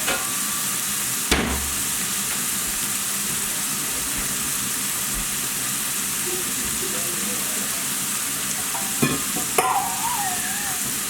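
Tomato paste cooking in a pan for fish biryani, a steady soft sizzle and frying hiss running throughout with a few brief clatters of stirring, no talking.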